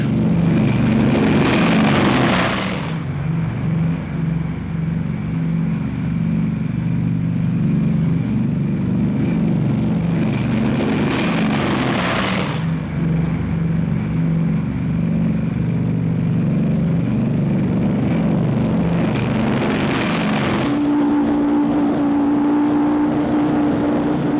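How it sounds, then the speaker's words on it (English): Four-engine B-29 bombers take off one after another for a long-range raid, a heavy, continuous engine roar that swells and recedes in broad waves over a steady low drone, with no voices. "B-29 takeoffs are a tough sweat."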